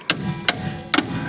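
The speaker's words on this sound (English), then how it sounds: "I'll just stick a little punch in here, tap that sucker out." Hammer tapping a punch to drive out a rusty bolt from a strut wheel bracket, three sharp metallic strikes at a steady rhythm, close and clear.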